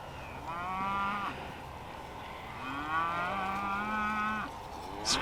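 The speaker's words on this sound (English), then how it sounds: "Got lots of cows here." Cattle in a riverside field along the Severn moo in two long, drawn-out calls, the second lower and extended, fairly close and clear against a quiet outdoor background.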